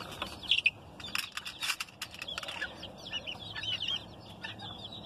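Roosters and hens cluck and call in a poultry yard, a run of short close bird calls and chirps over a steady background hiss with no talking.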